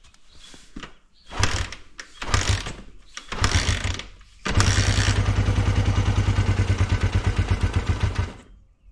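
A Honda CB125 twin motorcycle engine is cranked and coughs, then catches and runs roughly for a few seconds, a loud, close, uneven pulsing idle with mechanical clatter that stumbles before cutting out.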